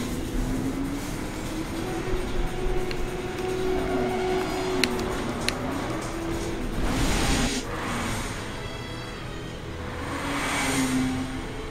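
A train rumbles past in the video game Resident Evil 6, a steady heavy rolling roar with a wavering high wheel squeal and occasional sharp clanks, loud and close throughout.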